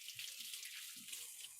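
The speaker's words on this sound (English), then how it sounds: "I'm going to wash my hands." A kitchen tap runs steadily into a sink for hand washing, a soft continuous hiss of flowing water with faint low splashes beneath.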